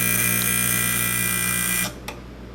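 A kitchen timer goes off while a cheesecake bakes, giving a loud, steady electronic alarm tone that holds for almost two seconds, then cuts off, followed by one brief click.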